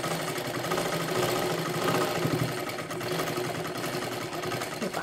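Sewing machine stitching a kurti top, a steady continuous mechanical whir with a fine rapid clatter, close and unbroken throughout.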